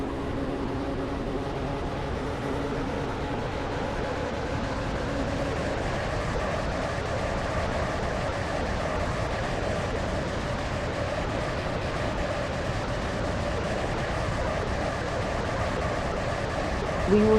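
A steady low rumble of a train running along the track in a video game, with continuous wheel and motor drone, even in loudness and with no clear breaks.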